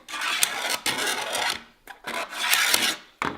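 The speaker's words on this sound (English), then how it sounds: "we'll just take the file and we'll just file it down a little bit more" A hand file rasps across a glued part on a Ford Bronco build, three loud, close back-and-forth strokes separated by brief pauses.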